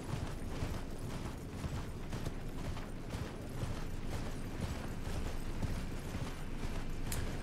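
A horse galloping in the Elden Ring video game, rapid steady hoofbeats mixed with a dense mechanical clatter, continuous and moderately loud with no talk.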